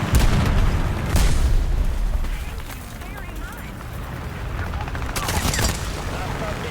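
Aircraft strafing with machine guns in the War Thunder game, rattling bursts of gunfire and booms, loud at the start and again near the end, under a speaking voice.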